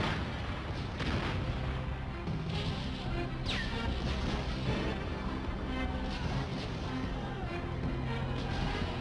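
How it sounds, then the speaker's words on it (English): Cannon fire during a siege of Athens near the Parthenon, rendered as a dense, continuous rumble of booms and crashes with a sharp whistle midway, heavy and loud throughout like a sustained battle bombardment. "enemy cannon line a hill overlooking one of the world's most magnificent buildings, the Parthenon"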